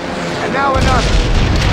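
A frag grenade goes off in the Call of Duty: World at War PS2 training level, a loud booming blast with a rumbling low tail that follows a brief whooshing swirl, all over steady game ambience.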